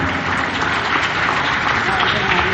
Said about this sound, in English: Can I hear a big round of applause